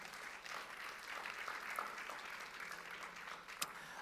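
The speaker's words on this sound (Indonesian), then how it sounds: "Kita beri tepuk tangan untuk Tuhan." A church congregation at a Pentecostal Sunday service in Gorontalo applauds steadily and fairly quietly throughout, a soft continuous patter of many hands with one sharper clap near the end.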